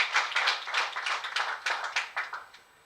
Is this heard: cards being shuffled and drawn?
no